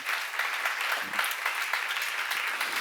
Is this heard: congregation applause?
yes